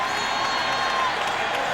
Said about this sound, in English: the crowd cheering rather derisively in support of Smoltz, and against the home plate ump, Phil Cuzzy